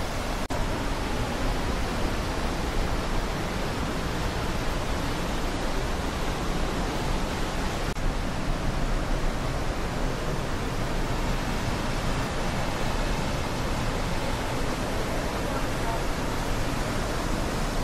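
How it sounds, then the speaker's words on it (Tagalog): Malibik-libik Falls in Bailen, Cavite gives a steady, dense roar of falling water that holds at an even level from start to finish. "So welcome to Malibik-libik Falls."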